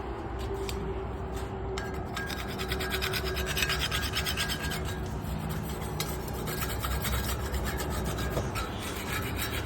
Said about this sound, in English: We're going to scrape off as much old paint from the railing as we can.